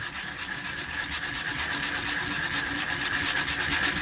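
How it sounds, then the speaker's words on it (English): Sandpaper of 60 grit rubs lightly over a plastic airsoft rifle or pistol part, a steady close raspy scraping that runs without pause for the whole stretch, with no voices. "we're going to start with a 60 grit, and then we're going to move to a 180 grit. So what you're going to do is just lightly sand it,"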